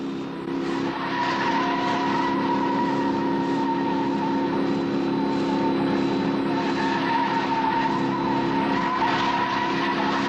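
Tires squeal in a long, steady screech as a car skids through a crash-bound chase, the loud sustained howl running continuously under engine noise with no talk.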